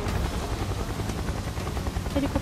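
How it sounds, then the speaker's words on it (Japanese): Helicopter in the video game Final Fantasy VII Remake, a loud, steady low rotor drone filling the whole moment with dense rumbling texture and no break. "ヘリコプターがいるな。"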